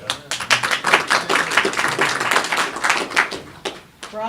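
Audience applause at a Rotary District 6000 fall seminar, a dense, steady wash of many hands clapping throughout, loud and close in a meeting room, easing slightly near the end.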